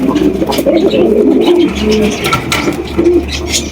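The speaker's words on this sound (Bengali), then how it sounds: "দেখতে পাচ্ছি চমৎকার একজোড়া ব্লু শার্টিন কবুতর" Blue satin pigeons cooing close by, low soft throaty calls repeating over a steady background hum.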